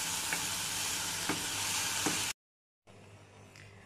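Chopped coriander and garlic fry in olive oil with a dense, loud sizzle and a few faint stirring taps. The sound cuts to brief silence and then returns as a quieter fry.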